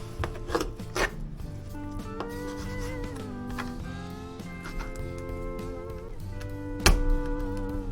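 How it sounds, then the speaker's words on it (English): A knife cuts through rabbit meat with a few sharp, close chopping thunks and some rubbing scrapes, spaced across the clip, with a loud final chop. "Cut right through both sides."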